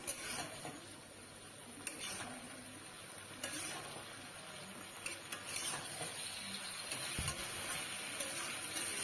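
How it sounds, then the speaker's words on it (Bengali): Already-fried papaya pakoras are tossed and stirred in a wok, giving a steady scraping, rattling stir with soft sizzle underneath and a few sharp ticks of utensil on metal, close and continuous without speech. "এবার ভেজে থাকা যে পেঁপেটা পকোড়া বানিয়ে রেখেছিলাম, এবার সেটা দিয়ে দিলাম কড়াইতে"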